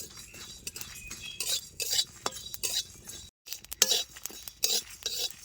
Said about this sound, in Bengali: এই শুকনো খোলায় নাড়া চেড়ে মশলাগুলো ভালো করে ভাজা ভাজা করে নেব